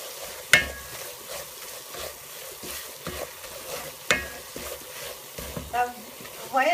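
Kachata sugar dough being stirred in a saucepan as it starts to pull away from the sides, giving irregular scraping and sizzling strokes with sharp clinks of the utensil against the pan.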